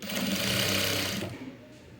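A sewing machine stitches cloth in a steady, close whir that runs loud for about a second and a half, then eases off and fades quieter toward the end, with no talking.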